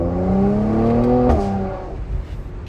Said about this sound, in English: And I love how you can just modulate the throttle just like that and enjoy that sound.